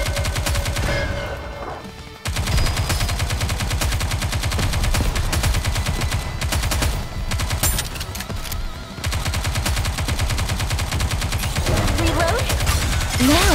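Continuous rapid gunfire from the video game Goddess of Victory: Nikke, loud and dense with dense repeating bursts and brief pauses, game voices and effects mixed in.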